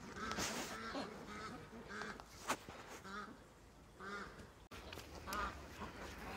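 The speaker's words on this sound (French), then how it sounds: "voilà les oies, comme je vous expliquais, qui dorment à côté des autres là" Geese honk and cackle repeatedly in short nasal bursts, a small flock calling close by with no talking.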